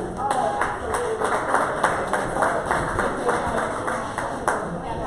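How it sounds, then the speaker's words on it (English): Audience applause for basketball coaches at a live event, a steady crowd clapping with sharp individual claps standing out and a voice talking over it throughout. "round of applause for our coaches here today"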